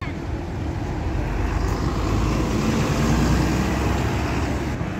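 A city bus passes on a Belgrade street, a steady broad rumble of engine and road noise close by, holding loud for the whole span with no talk over it.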